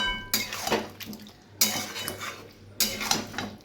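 Goat fat being slowly fried with potatoes in a pan, heard mostly as repeated metal clanks and scraping of a spoon against the pan in three bursts over a low background sizzle; no talking.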